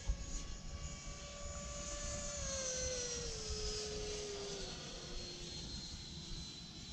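An E-Flite F-16 Thunderbirds 70mm electric ducted fan RC jet flies over a grass runway, its steady whine gliding down in pitch as it passes, moderately loud and alone without talk.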